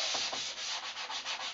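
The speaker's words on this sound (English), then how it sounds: "Going through our final sanding stages here." Sandpaper rubs steadily back and forth over a large wooden library table during final sanding to 180 grit, a soft, even, rhythmic scratching of short strokes, close and alone.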